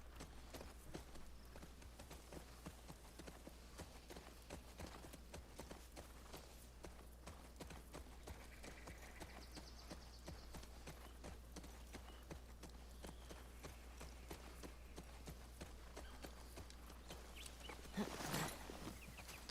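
Horse hooves clip-clop at a steady walking pace in The Last of Us Part II, a faint continuous rhythmic patter heard throughout over low ambient wilderness sound, with a brief louder burst near the end.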